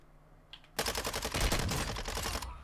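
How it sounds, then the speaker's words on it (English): Sustained automatic gunfire rattles in Warzone 2, a loud burst of rapid close shots that starts abruptly and runs almost continuously for two seconds before cutting off. "I knew I heard shots."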